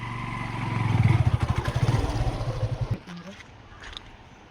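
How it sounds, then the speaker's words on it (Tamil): A motorcycle crossing a bridge at a mela festival in Nepal, its engine rising loud and near with a rapid throbbing rattle, then cutting off abruptly, leaving quieter ambient noise and a faint voice. "இந்த பிரிட்ஜ்லேயும் பைக்கெலாம் ஓட்டிகிட்டு வராங்களே"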